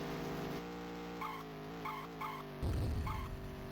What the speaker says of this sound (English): I can handle the endless, tiring sound of motorcycles.